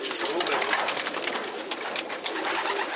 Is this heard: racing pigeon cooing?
yes